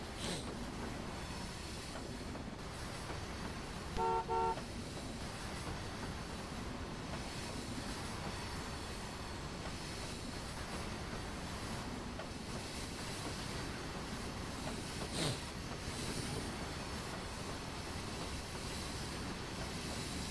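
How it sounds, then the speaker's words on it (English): Continuous rumble and rolling wheel noise of a train running on the Riverton route in Trainz Railroad Simulator 2019, steady throughout, with a short tonal blip near the start and a brief sharp clank later; no speech. "This train would traverse the entire 80-mile length of the Riverton."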